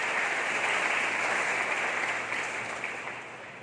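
Audience applauding at a college orientation and induction meeting, a dense, steady wash of clapping that fills the room and slowly fades toward the end, with no voices over it.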